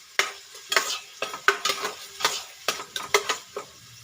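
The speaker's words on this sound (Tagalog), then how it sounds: "Hintayin lang po natin siyang maging golden brown ng konti yung sibuyas" Onions fry toward golden brown in a pan as a spatula works them, giving a steady sizzle broken by a dozen or so sharp scrapes and clinks in an irregular rhythm, close and clear with no speech.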